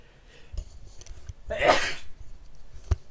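A single close sneeze from a person on a voice call, a sharp burst with a quick breathy intake before it, followed by small clicks and a short knock.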